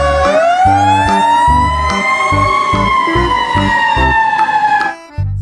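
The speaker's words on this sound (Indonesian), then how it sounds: "Wow, lihat di sini ada mobil pemadam kebakaran." Toy fire truck siren wailing loudly and steadily for about five seconds, its rising electronic tone sitting over a bright, repeating toy beat that pulses underneath, then cutting off abruptly at the end.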